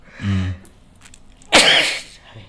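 A woman sneezes once, a short sharp burst, after a brief vocal sound; quiet room otherwise.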